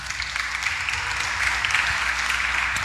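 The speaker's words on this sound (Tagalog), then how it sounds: "Palakpak." A congregation at a church gathering claps together in a steady, moderately loud burst of applause lasting a few seconds.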